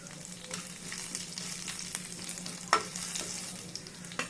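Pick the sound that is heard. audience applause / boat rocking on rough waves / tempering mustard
tempering mustard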